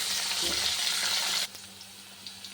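Potatoes fry in a wok (kadai) with a loud, bright hiss and sizzle. The sizzle drops sharply partway through and continues as a faint crackle.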